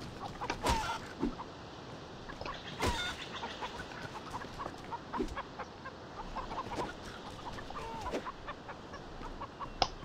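Chickens cluck and peck in the fantasy game The Bard's Tale, with scattered soft clucks over a low, constant background hum and a few sharper clicks.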